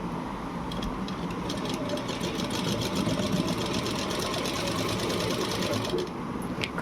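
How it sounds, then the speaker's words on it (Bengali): A sewing machine runs steadily as it stitches a hand block printed sari, its close, continuous mechanical whir and rapid needle chatter holding an even level throughout. "এই যে এখানে সেলাই হচ্ছে শাড়িটা।"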